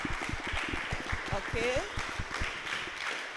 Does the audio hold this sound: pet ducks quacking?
no